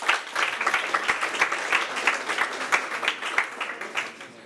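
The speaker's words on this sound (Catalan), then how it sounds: "Un aplaudiment." Steady applause from a school quiz audience, many hands clapping densely for a few seconds before easing off slightly at the end.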